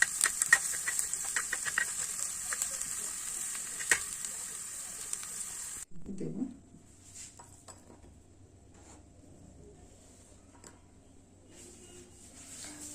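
Chopped garlic frying in Fortune kachchi ghani mustard oil for Bengali-style chicken bharta, a steady sizzle with faint utensil clinks for about six seconds, then dropping to a much quieter low hiss.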